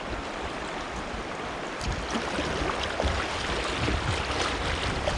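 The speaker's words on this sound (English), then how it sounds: "I plant the blade in the water and pull towards me" Crescent CK1 Venture kayak paddle blade planted and pulled through flowing river water, a steady rushing wash with faint splashy strokes close by, no voices.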